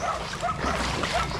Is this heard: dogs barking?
yes